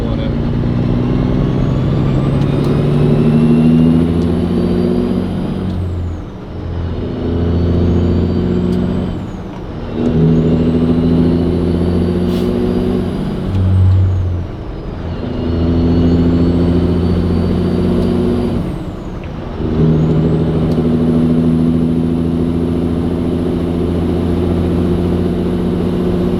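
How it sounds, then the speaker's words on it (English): A Cat 3406E diesel truck engine fitted with a straight-through performance muffler drones loud and deep from inside the cab, rising and falling as it pulls through repeated gear changes. "I wanted something that was a performance muffler, straight through, no baffle in it."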